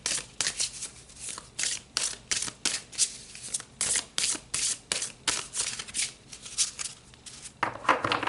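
Tarot cards are shuffled and pulled by hand in quick, rhythmic riffling swishes that repeat about twice a second, close and crisp with no talking.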